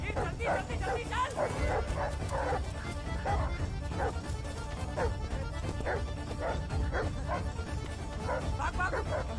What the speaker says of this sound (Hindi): अरे किसके कुत्ते हैं ये?